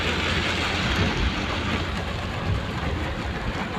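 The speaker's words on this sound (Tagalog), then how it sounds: "Lakas ng ulan." Heavy rain pouring steadily, a dense continuous hiss with a low rumble underneath, loud and close.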